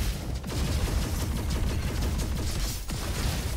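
Sticky bomb weapon fire in the Roboquest video game, a continuous rattling stream of rapid shots and mechanical clatter at moderate level, with a couple of brief gaps.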